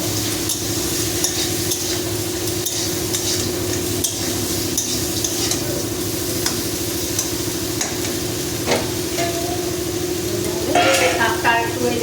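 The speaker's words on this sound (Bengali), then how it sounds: "ভাজা ভাজা হবে।" Potato, eggplant and lentil bori frying in a pan, with a steady sizzle and occasional scraping and clinking of a spatula, louder stirring near the end.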